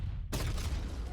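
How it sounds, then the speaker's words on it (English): A big explosion in a video game bursts in abruptly after a brief near-silence, a loud broadband blast that keeps rumbling with a crackling, fusillade-like tail. "Did I mention the big explosion?"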